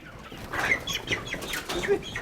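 Chickens flap their wings in short bursts and let out agitated clucks at close range as they are caught, with a brief rustling scuffle.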